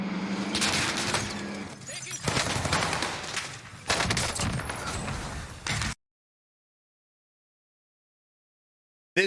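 Rapid automatic gunfire from a Warzone video game gunfight, loud dense bursts packed together for about six seconds, then silence and one brief closing blast.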